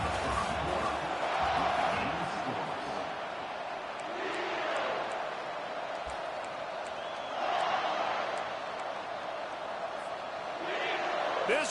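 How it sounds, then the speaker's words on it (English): Crowd noise at a football game between HH and UNC, a broad roar that swells and fades in waves beneath steady commentary. "This crowd bringing the energy and noise early."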